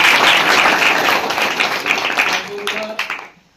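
An audience at a public gathering at a school claps together in loud, dense applause that holds steady, then thins and fades out over a few seconds.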